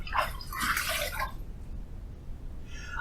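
Running water rinses a razor after a shaving pass, a brief close splashing and trickling for about a second, then fading to quiet before a faint second splash.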